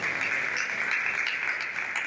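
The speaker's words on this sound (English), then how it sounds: "Another round of applause for the Vice Chancellor." An audience at a university students' association gathering claps for the Vice Chancellor, a steady, moderately quiet wash of applause filling the whole stretch.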